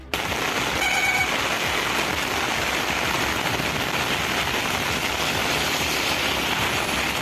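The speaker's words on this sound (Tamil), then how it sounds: "மாலை வேளையில் காற்றுடன் மழை பெய்தது" Heavy evening rain driven by wind gives a dense, constant roar of drops, loud and unbroken throughout with no talk.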